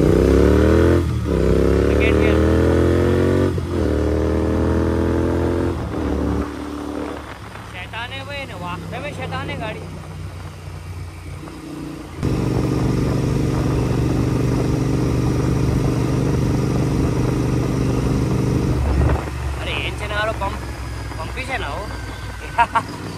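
Royal Enfield GT650 motorcycle with aftermarket exhaust ridden on the road, close engine drone shifting through gears with revving rises and steady cruising, a voice occasionally talking over it.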